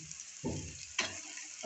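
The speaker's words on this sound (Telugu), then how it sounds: "ఇప్పుడు ఆనియన్స్ కలర్ చేంజ్ అయినది కదా, ఇప్పుడు వచ్చి అల్లం వెల్లుల్లి పేస్ట్ వేసుకున్నాము." Ginger garlic paste sizzles with browned onions in a hot pan, a soft frying hiss broken by short bursts of crackle as the mixture is stirred, close and fairly quiet with no talking.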